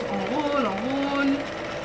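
A sewing machine stitches fabric in a steady, close whirring run lasting about two seconds, its motor tone rising and dipping slightly as the cloth feeds through.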